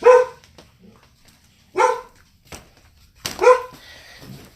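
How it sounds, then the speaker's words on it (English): A dog barks in three loud, separate bursts spread over a few seconds, with quiet gaps between them and some fainter yips and whimpers in the background. "usually she only barks if there's something wrong"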